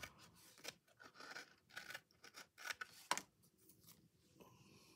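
Tim Holtz scissors snip through paper in a series of short crisp cuts with brief pauses between, close by and fairly quiet.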